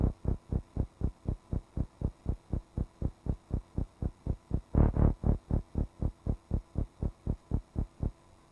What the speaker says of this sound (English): So we have a nice little tremolo from the LFO on the Moog Model 32.